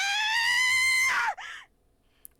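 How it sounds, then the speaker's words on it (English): A character screams in the video game Raging Loop, one loud sustained shriek that cracks and breaks off into a shorter gasping cry, then fades to near silence. "Another scream. It was close."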